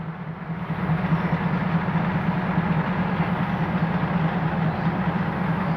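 A diesel railcar on the Mae Klong line idles steadily at Ban Laem railway station, a constant low engine hum with broadband rumble and no one speaking.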